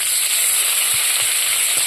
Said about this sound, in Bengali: পেঁয়াজটা যখন ভাজা ভাজা হবে তখন আমি আলুটা ঢেলে দেবো